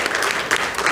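Brief burst of congregation applause in a church on Jeju during a testimony service, a close, dense clatter of many hands clapping at once.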